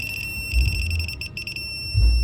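Torque wrench beeping as it nears set torque while tightening bolts during a Toyota Sequoia rear brake pad job: a rapid string of high-pitched electronic beeps with short gaps, over low mechanical rumbles.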